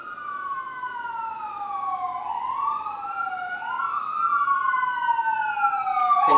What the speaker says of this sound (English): notice the sirens in our studio. We're a ground floor studio, so therefore there's distractions, there's fire trucks, ambulance